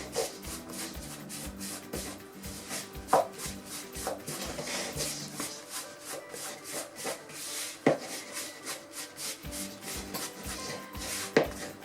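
Tartlet dough is worked in a bowl with a rapid, rhythmic rubbing and scraping, close and steady, with occasional sharper knocks against the bowl.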